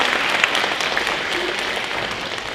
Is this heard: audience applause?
yes